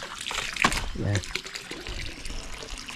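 Fresh water poured into a tilapia pond splashes and trickles, a brief burst of water near the middle of the clip with speech before and after it.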